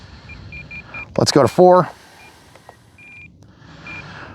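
An RC transmitter for an FMS Viper 70mm jet gives short electronic beeps as its flight timer is changed, a few soft chirps scattered through the clip with someone speaking briefly in the middle.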